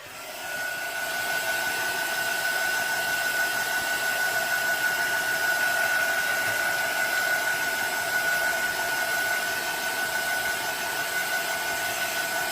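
A hair dryer runs steadily at close range while drying a paper bookmark, producing a constant loud whooshing blow with a faint whine that holds for about twelve seconds without talk.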